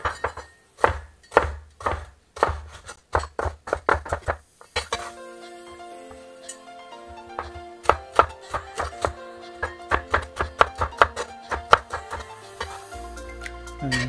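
A knife chops red and green pepper on a cutting board in quick, steady runs of sharp, close knocks, pausing briefly before resuming with a second rhythmic series of cuts.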